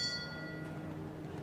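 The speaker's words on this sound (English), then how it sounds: "the jury will ring the bell" At a show jumping event the jury rings a bell, a single faint ring whose tone decays quickly over a soft arena background.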